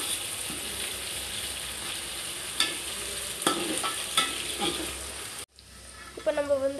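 Spices and aromatics for mutton biryani sauté and crackle in a hot pan, with steady sizzling broken by a few sharp scrapes and stirring knocks. The sound cuts off abruptly near the end, then brief faint clatter follows.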